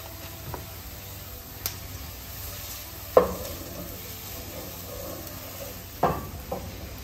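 Chopped onions fry in a pan at home while being stirred, giving a low, steady sizzle broken by a few sharp scraping strokes spaced several seconds apart.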